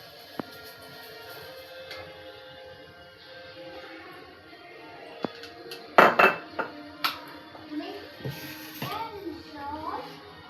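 A cooking pot is set down on a gas stove with a sharp metallic clunk, followed by several lighter clinks and rattles against a quiet kitchen background.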